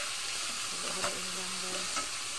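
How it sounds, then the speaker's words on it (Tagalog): Pork meat sautéing in a pan, a steady close sizzle with a couple of soft utensil taps over the short stretch. "Isunod na natin yung ating pangsahog ng karne, pork"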